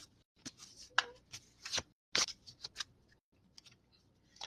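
Close, crisp bursts of tarot cards being shuffled and riffled, in short irregular flurries with quiet gaps between.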